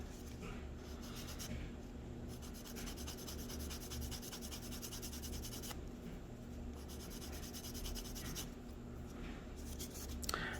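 A nail buffer sands a wooden part smooth for a model build: steady, soft, close rubbing strokes that continue evenly throughout, faint and alone.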